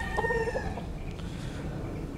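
A Tagalog fighting gamecock gives one short, throaty call at the start, followed by a low, steady background rumble.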